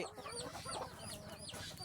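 Chickens cluck and chatter nearby in short, repeated bursts, a busy flock sound with no talking.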